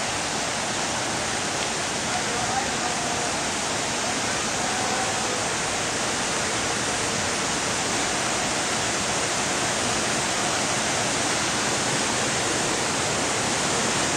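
Niagara Falls roars as a steady, loud, broadband wash of falling water, continuous and unbroken throughout with no voices over it.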